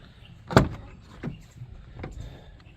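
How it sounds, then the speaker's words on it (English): The front door of a 2014 Ford F150 pickup opens with a sharp latch click, then a few softer knocks and thuds as it swings, close by with no talking. "And let me open the front door here."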